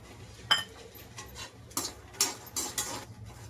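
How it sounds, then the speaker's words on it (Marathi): Makhana and kheer ingredients are dry-roasted in a pan, giving quiet, intermittent scrapes and light metallic clinks of a stirring utensil, with a few short bursts and no talking. "हे सगळं आपण आहे ना भाजून घेणार आहे"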